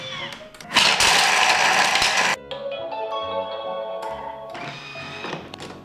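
A Bimby TM5 Thermomix blends licorice gelato at speed 9, giving a loud, dense whirring roar that lasts about a second and a half and then cuts off abruptly, followed by quieter tonal sounds.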